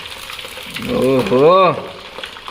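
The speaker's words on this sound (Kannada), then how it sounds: "ಫ್ರೈ ಆಗ್ತಾಯಿದೆ, ನೀಟಾಗಿ ಫ್ರೈ ಆಗಲಿ." Fish frying in a pan gives a steady, close sizzle throughout, while a voice briefly exclaims over it partway through.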